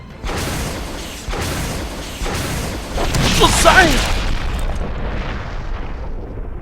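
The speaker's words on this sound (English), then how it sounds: "A very destructive weapon that fires rockets with a large blast radius." Rocket launcher fire in Resident Evil HD Remastered, heavy booming blasts with large explosions repeating in a steady rhythm, loud and close, with a bigger burst near the middle that trails off.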